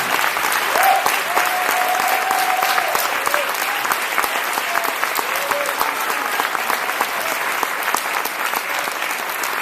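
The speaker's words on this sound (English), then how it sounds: "Your applause for them" Loud, sustained applause from an event crowd thanking volunteers, thick continuous clapping with sharp individual claps poking through and a brief whistle-like tone early on.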